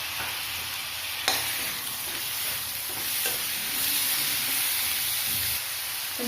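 Chopped tomatoes sauté in a pan for a Tamil eggplant gravy, a steady hiss and sizzle with occasional stirring clicks, close and fairly loud, with no talking.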